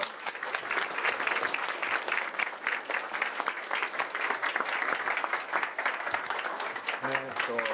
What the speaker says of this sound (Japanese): 拍手をください